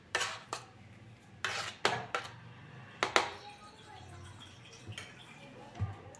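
A utensil scrapes Ayurvedic skin cream from the sides of a bowl in a series of short, irregular scrapes and knocks, close and fairly quiet.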